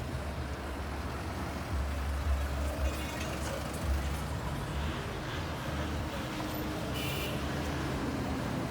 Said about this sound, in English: So this is where the buses go through, the route taxis.